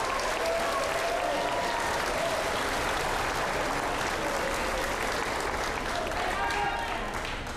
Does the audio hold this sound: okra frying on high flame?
no